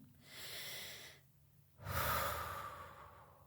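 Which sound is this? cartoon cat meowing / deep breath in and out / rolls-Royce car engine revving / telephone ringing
deep breath in and out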